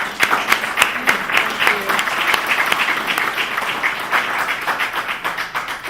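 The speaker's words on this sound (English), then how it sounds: "Let's give her a round of applause." An audience claps for a speaker at a talk, with a few distinct claps at the start and then continuous, moderately loud applause that slowly thins out toward the end.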